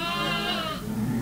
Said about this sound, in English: Leo, the Peruvian sheep herder, comes to Levina every year with his son and others to work lambs and sheep.